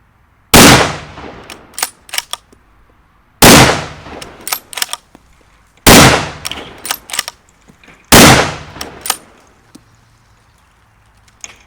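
Four loud, sharp gunshots from a Mauser M03 switch-barrel rifle, each a single crack several seconds apart, followed by metallic clicks and clunks of the action between shots.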